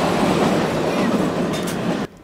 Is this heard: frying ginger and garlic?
no